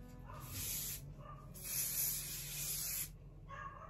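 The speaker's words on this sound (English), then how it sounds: "And then I really love the Final Net hairspray." Final Net hairspray hisses out of an aerosol can in two bursts: a short spray, a brief pause, then a longer spray, followed by a fainter puff.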